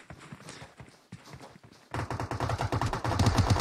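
Gunfire in a battle royale video game crackles in scattered bursts, then builds into sustained, dense automatic fire that grows louder toward the end.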